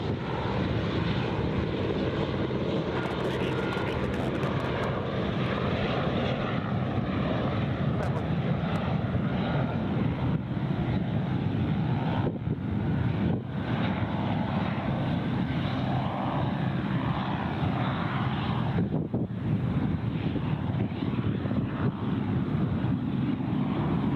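Velocity 518, an aircraft at Gold Coast Airport, produces a loud, steady engine roar that holds at a constant level throughout, with a voice talking over it now and then.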